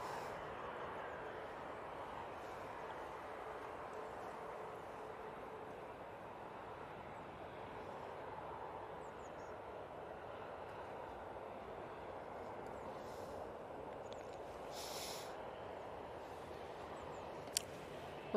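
Corendon plane landing at Manchester Airport, a faint, distant, steady engine rumble and wind-like roar lasting the whole stretch, with a few small clicks near the end.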